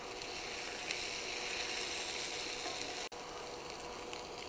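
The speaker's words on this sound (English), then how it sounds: "We're gonna cook these for about 5 to 7 minutes until the potatoes are nice and crispy and lightly browned" Diced potatoes, peppers and onions fry in a skillet for a loaded breakfast, giving a soft, steady hiss that stays low and even throughout.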